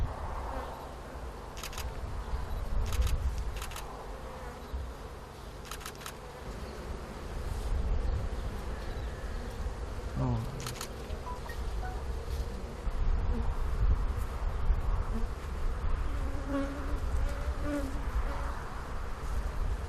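Honeybees buzzing around a hive with brood, a continuous low drone close by with brief faint clicks, steady throughout and no voices.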